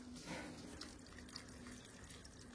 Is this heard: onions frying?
no